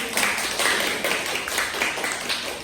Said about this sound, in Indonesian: tepuk tangan untuk Adel.